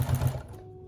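A sewing machine with a walking foot stitches a quilt in a quick loud burst of whirring that stops partway through, leaving a low steady hum.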